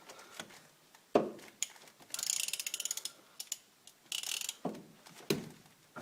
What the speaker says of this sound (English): we have our 17 socket here. Just going to throw it on. Make sure it's on loosen.